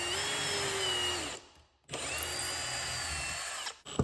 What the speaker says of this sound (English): Pre-drill each hole the depth of the threaded screw.